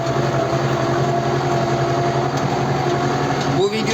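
A tractor engine idling steadily in the snow with a low, even chugging hum throughout, while a person talks over it.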